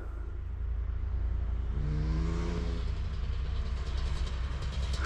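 Car engine revving as the driver gives it gas on a roadside, a steady rumbling drone that rises in pitch for a couple of seconds, heard from a moderate distance with outdoor background.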